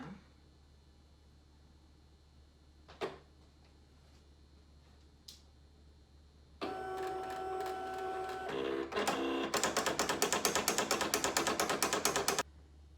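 An electronic cutting machine resumes a print-and-cut job for personalized library cards: a steady motor hum starts partway in, then gives way to a rapid, loud mechanical chatter of the carriage moving, with a couple of faint clicks before.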